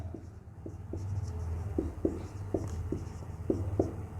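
Chalk or marker strokes on a board during a physics lesson on point charges, a string of short taps and scrapes in an irregular rhythm over a steady low hum, fairly close and moderate in level.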